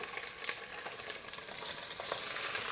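Italian sausage browns in a little extra virgin olive oil inside a cast iron Dutch oven, giving a steady close sizzle and crackle with occasional spatula scrapes, getting slightly louder toward the end.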